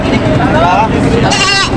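Goats at a livestock market in Lucena let out two short, wavering bleats close by, over a constant background of market noise and babble.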